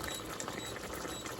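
Sweet and sour chicken sauce simmering in a pan on the hob: a steady, faint bubbling burble that runs without a break, close by and with no voices.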